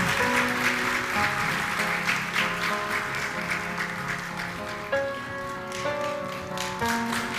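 At an honorary doctorate ceremony at Ankara University, an audience gives continuous applause. Sustained musical tones play underneath, and the clapping eases slightly toward the end.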